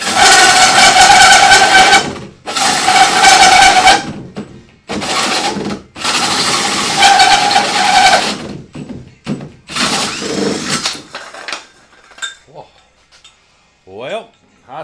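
A power drill whines and grinds into wood in several long bursts separated by short pauses, loud and close, then gives way to scattered knocks and quieter sounds.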